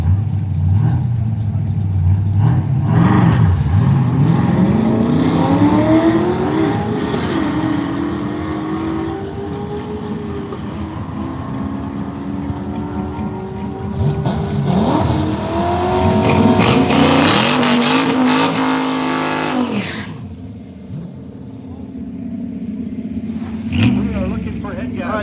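Race cars launch down the Woodburn Dragstrip during a Drag n Drive event, engines revving hard and climbing through gears in loud, close bursts, one run fading before another roars up, with a voice talking over parts.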